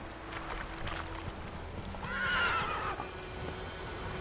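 Roach the horse in The Witcher 3 gives a clear whinny midway through, with soft rhythmic hoofbeats of galloping underneath, moderately close over a quiet ambient bed.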